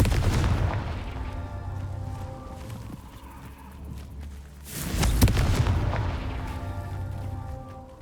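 Confringo spell explosions from Hogwarts Legacy boom in two heavy, rumbling blasts separated by a few seconds, each bursting loudly and then fading into a long echoing tail.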